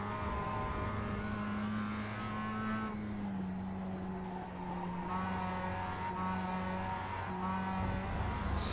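A Mazda MX-5 engine in the iRacing simulator, revving high and steady with a droning tone that rises and dips through gear changes, heard close and continuous with a brief tire scrape near the end.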